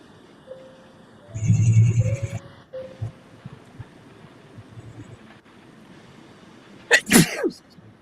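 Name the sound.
sneeze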